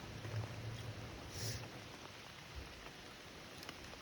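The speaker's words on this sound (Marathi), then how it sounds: "इकडे पाऊस पडतोय" Soft, steady rainfall pattering on a surface at a farm field in Konkan, faint and continuous with no one speaking.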